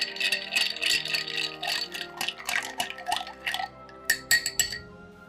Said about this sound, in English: And we're gonna stir until chill.